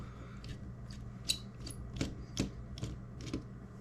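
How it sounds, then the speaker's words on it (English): Small screws being turned out of a DJI Mini 2 drone's bottom shell, a close, quiet run of brief scratchy clicks and rasps at an uneven rhythm over a low hum. "we would have to unscrew the 2 screws right here"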